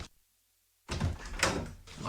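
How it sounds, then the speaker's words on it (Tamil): A door-knocking sound effect in a Sri Lankan Tamil radio drama arrives after a brief silence as a few dull, close thumps, with the loudest one midway. "தாரோ கதவை தட்டுறாங்கப்பா"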